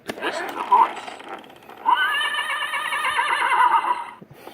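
Horse neighing played back from a pull-string talking toy, a short whinny followed by a longer, bright, wavering neigh, close and loud, with a voice briefly at the start.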